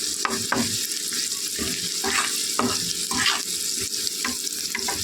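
Maggi noodles being stirred in a pan with salt, bursts of scraping stirring strokes over a continuous close sizzle.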